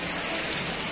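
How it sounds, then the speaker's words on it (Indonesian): Heavy rain pours down across the grounds of SMA Negeri 1 Ajibarang, a dense, steady hiss of downpour filling the whole second without a break. "Hujannya sangat lebat ya."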